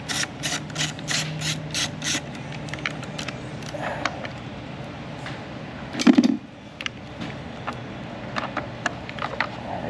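A ratchet wrench loosens a 10 mm bolt on a Jeep Wrangler 3.6 engine: quick bursts of close, crisp clicking, then scattered lighter clicks and a single heavier knock partway through.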